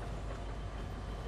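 A train rolls along its rails in the video game Fortnite, making a steady, broadband rumble that stays even and continuous, with no voices over it.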